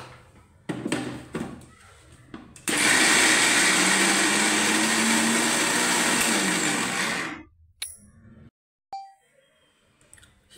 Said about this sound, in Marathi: आता ही डाळ आपण अशी मिक्सरला वाटून घ्यायची